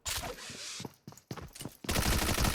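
Rapid bursts of gunfire in the mobile battle royale game PUBG Mobile, loud and close, with a brief gap before a sustained rattling volley, no talking.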